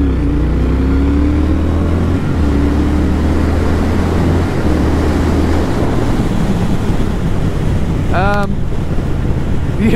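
A 2019 Triumph Speed Twin motorcycle pulls a third-gear roll-on in sport mode. Its engine drone climbs steadily under heavy wind rush, loud and continuous, with a brief rising whine near the end.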